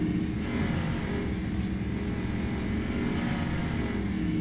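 Car engine in Way of the Hunter 2 droning at a steady, unchanging pitch as if stuck in one gear, a continuous close hum with no shifts and no talk.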